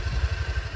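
A motorcycle engine idles close by early in the morning, a steady low throbbing pulse with a faint hiss above it and no voices.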